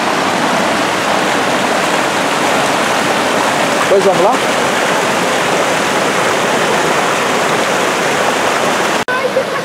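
A river waterfall and stream pour steadily in a loud, continuous rush of flowing water that fills the whole scene, with a voice briefly speaking partway through.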